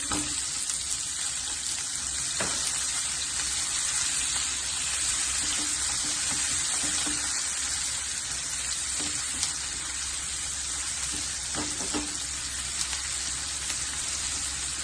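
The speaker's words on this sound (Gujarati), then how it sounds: "હવે આ વ્યવસ્થિત રીતે એને ડુંગળીને લાલ થવા દેવાનો છે." Onions frying in a pan for Gujarati corn chevda give off a steady, continuous sizzle at close range, with a few soft clinks of stirring and no voices.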